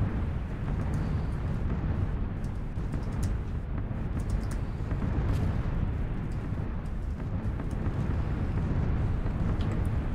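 Bombing in the PUBG red zone: a continuous, dense rumble of distant explosions with no distinct single blasts, steady and moderately loud throughout, with faint clicks of keyboard typing scattered over it.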